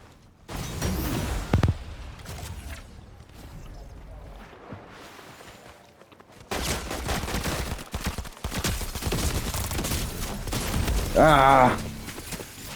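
SMG bursts in the video game Fortnite during a South Park themed match, loud rapid firing mostly in the second half, with game effects and a voice talking over parts.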